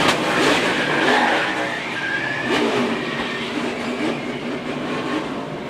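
NASCAR stock cars roar past on a racetrack in a loud, continuous engine wash that swells and fades slightly as they sweep by, with no clear speech.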